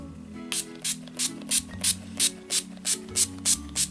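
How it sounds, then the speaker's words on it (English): A spray bottle of NYX Dewy Finish Setting Spray mists in a steady series of about ten quick, evenly spaced hissing spritzes, close and crisp over a quiet background. "we are just going to finish this off with some NYX Dewy Finish Setting Spray"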